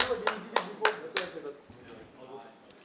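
A coach's hand claps behind the players at a Counter-Strike esports match: four sharp, evenly spaced claps up close, followed by a quieter stretch of murmuring crowd and faint talk.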